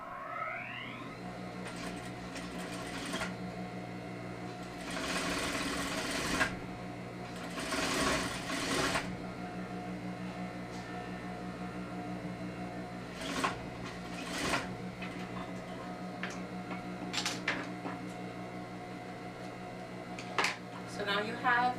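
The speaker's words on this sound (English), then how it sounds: "I'm going to switch my sewing machine on" A sewing machine stitches a seam, its motor running in bursts with steady humming tones and rapid needle clatter, pausing between runs, with occasional clicks and handling noises nearby.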